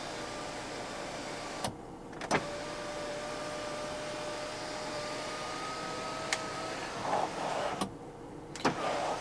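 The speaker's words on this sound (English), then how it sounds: "Pull the switch back once for the sunshade and pull it a second time to actually open up the sunroof itself" Electric sunroof and sunshade on a 2022 Volvo V60 Recharge T8 plug-in hybrid opening inside the cabin, with a steady motor whir broken by a few sharp switch clicks and mechanical clunks as the panels travel.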